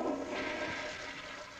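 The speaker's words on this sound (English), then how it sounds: "and flushing the toilet." A household toilet flushing after a potty has been emptied into it, a steady rushing of water that stays fairly loud and even throughout, with no voices.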